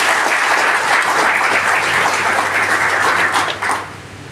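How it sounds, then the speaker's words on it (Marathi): Employees gathered at a Fabtek Multistate Sangola bank meeting clap loudly for their chairman, a dense, steady wave of applause that holds for several seconds before quickly tapering off near the end. "म्हणून त्यांच्यासाठी एकदा आपण टाळ्या वाजवूया."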